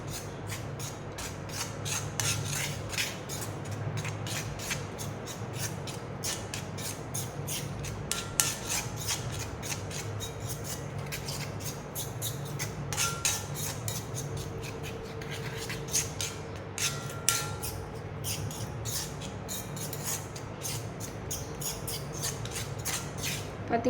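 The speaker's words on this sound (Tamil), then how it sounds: "இப்போது எல்லாத்தையும் மிக்ஸ் பண்ணி விட்டுக்கலாம்." A homemade hair dye is stirred together with coconut oil, giving a steady, close scraping and clinking of a spoon against a small bowl that runs continuously with quick repeated strokes.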